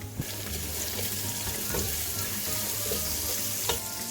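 Steady sizzling of a small onion frying in hot oil with garlic and ginger paste, a continuous crackling hiss with occasional faint clinks, close by and without speech.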